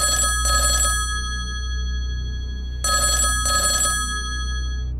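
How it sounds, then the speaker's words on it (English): A telephone rings in two double-burst cycles, each pair of trilling rings followed by a pause, loud and close over a low steady hum with no voices. "the phone rings again"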